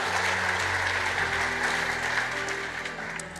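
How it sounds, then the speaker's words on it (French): A church congregation applauds after a scripture reading at a pastor's service, a dense steady wash of clapping that fills the room and slowly tapers near the end. "On peut acclamer la parole du Seigneur."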